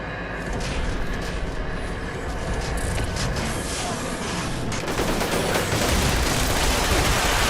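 Sustained heavy gunfire from a Gauss minigun in the game Fallout 76, loud and continuous throughout, growing denser and harsher toward the end, with no talk over it.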